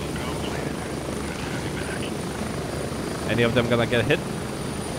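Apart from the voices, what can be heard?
helicopter landing in video game Grey Zone Warfare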